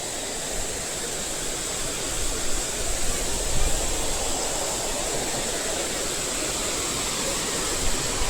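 Continuous roaring rush of water at Courtallam Falls, loud and broadband, steady throughout with no talking.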